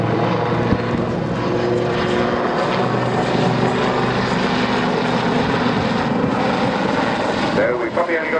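Westland Lynx Mark 7 helicopter at the RIAT 2013 airshow, climbing straight up and pushing over the top. Its loud, continuous rotor and engine roar fills the whole stretch, with announcer commentary running underneath.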